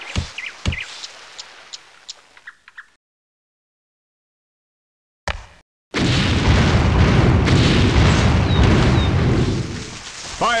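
Sharp booms and pops open the scene, then after a short silence a heavy, sustained roar of cannon fire from a ship's broadside in Anno 1602 rumbles loudly for several seconds, with faint bird calls above.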